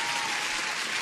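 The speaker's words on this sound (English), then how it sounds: "Let me give you an applause." A short burst of steady applause, bright and dense, reads like a canned clapping sound effect on a live trading stream.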